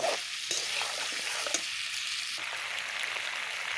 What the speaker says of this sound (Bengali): এখন আমি সবগুলো মাংসের সঙ্গে সুন্দর করে কষিয়ে নেব